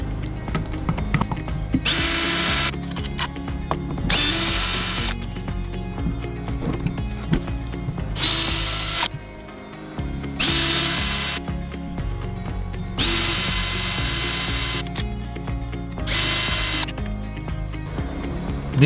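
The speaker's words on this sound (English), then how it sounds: "Sometimes a cordless drill can be very handy." A cordless drill runs in several whirring bursts of a few seconds each, separated by short pauses, while a mortise lockset is fitted to a door. The whine is loud and close, with no talking.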